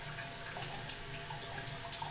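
Water runs steadily from the tap of an instant water heater, a soft continuous splashing stream at low level with no one speaking.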